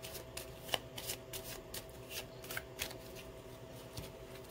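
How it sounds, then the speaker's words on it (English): Dominion board game cards are shuffled by hand in a quick run of soft riffling flicks, close and quiet with no voices. "So I have to automatically come over here and shuffle my discard pile."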